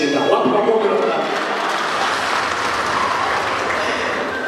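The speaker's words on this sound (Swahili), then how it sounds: "Wapi makofi na Mulaki?" Audience applause for Mulaki at a furniture company event, a sustained wash of clapping following a voice, steady and moderately loud.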